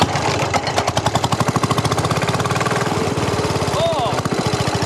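An old wartime farm engine, started like an old lawnmower, catches and chugs in a fast, steady put-put rhythm close by, while people talk over it.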